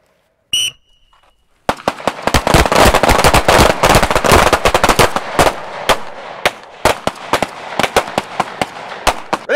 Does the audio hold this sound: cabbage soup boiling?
no